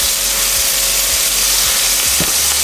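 Kale and mushrooms sizzling in a frying pan, a loud, dense, unbroken hiss of hot fat close up, with a few faint low bumps from the pan and no speech.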